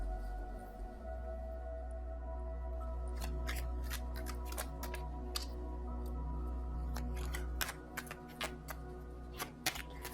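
Tarot cards being shuffled and drawn, a steady run of crisp card flicks and snaps that grows busier partway through, close by over a low constant hum with no talking.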